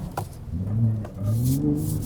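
A 2022 Ford Raptor truck driving through puddles on a trail, its engine giving a low steady rumble that swells twice, heard from inside the cab, fairly loud with no talk.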